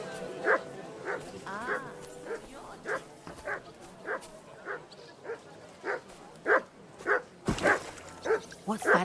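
A dog in Kingdom Come Deliverance 2 gives a run of regular, fairly close barks and yips, about one per second, with game sounds in the background.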